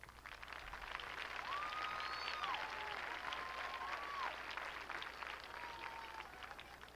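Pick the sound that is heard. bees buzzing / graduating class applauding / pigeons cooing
graduating class applauding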